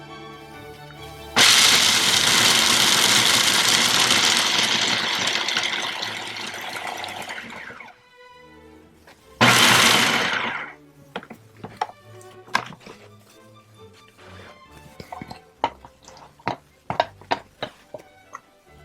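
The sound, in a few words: food processor whirling ingredients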